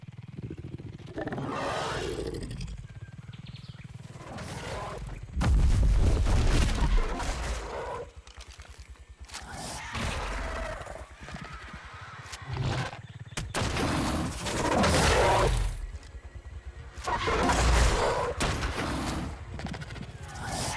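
Rifle fire in ARK Survival Ascended comes in loud, booming blasts spaced several seconds apart, with wild creature roars and game ambience between shots.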